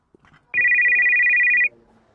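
A phone rings once, a steady electronic tone lasting about a second, clear and close, against a quiet background.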